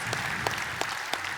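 Audience applause at a regional business awards ceremony in Côte-d'Or, a steady dense patter of clapping from a room of people, moderately loud and continuous with a few sharper peaks.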